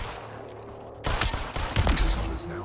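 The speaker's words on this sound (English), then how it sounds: "I can just shoot them with a pistol then." Pistol fire aimed at bots in the VR shooter Population: One, a burst of several sharp shots after a quiet first second, fairly close and loud against a busy game background with no talk.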